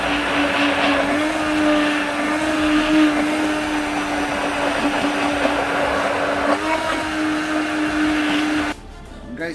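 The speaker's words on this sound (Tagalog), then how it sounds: "So mas magandang mabe-blend or ma-hand mixer yung ating mga spices" Electric hand mixer whirring steadily as it blends spices for a garlic butter shrimp sauce, a loud constant motor whine with slight pitch shifts before it cuts off near the end.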